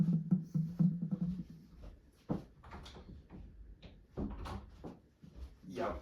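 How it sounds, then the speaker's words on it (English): Soft knocks and a thud of a door closing nearby, with muffled shuffling and faint movement around it. "I'm gonna shut the door."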